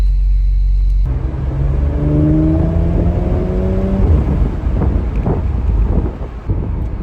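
A Porsche Macan GTS drives over an old wooden bridge with water on both sides, a steady engine rumble and rising whir mixed with wind buffeting, with faint knocks toward the end.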